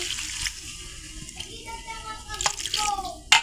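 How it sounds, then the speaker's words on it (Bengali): Water splashes and trickles into a cooking pan of bitter gourd and jackfruit seeds close by, a short gurgling pour with faint background noise. "এখন হালকা সামান্য পানি দিয়ে"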